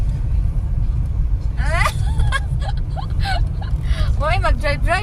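Low, steady road rumble fills the cabin of a car on a drive toward a hotel, continuous throughout, while people chat over it.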